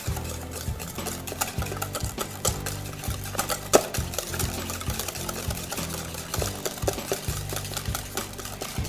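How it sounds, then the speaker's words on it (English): Carrot cake protein bar ingredients being stirred together with half a cup of Splenda in a bowl, giving a steady, close scraping and mixing rhythm with soft clinks, no speech. "I'm gonna mix those together."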